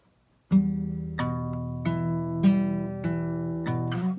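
Fingerpicked guitar, playing a repeating pluck pattern for a song. A series of clear, close plucked notes ring out alone and overlap in a steady rhythm, with the bass and upper strings alternating.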